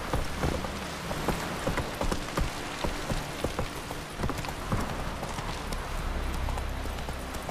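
Roach the horse gallops in The Witcher 3 with rapid, rhythmic hoofbeats over a steady wash of rain, loud and close throughout, with no voice over the hooves.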